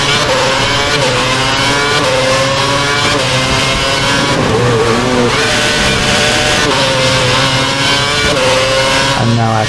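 Formula One race cars roar down the long straight at the Chinese circuit in the F1 2011 racing game, loud continuous high-revving engine whine with shifting pitch and overlapping cars passing close.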